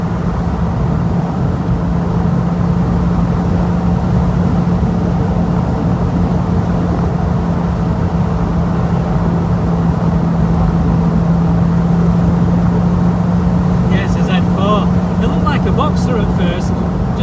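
A V8 engine droning steadily while cruising along country roads in the Derbyshire Peak District, a constant loud in-car hum with no letup and a few faint knocks near the end.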